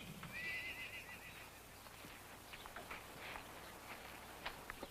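Gentle trail horses neighing outdoors: one clear whinny near the start, then softer snorts and hoof clops over a quiet, steady background hum.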